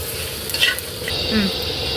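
Oil sizzles steadily as tempering spices fry in a pan for gongura sesame chutney, with a few clinks of stirring on top; no one speaks.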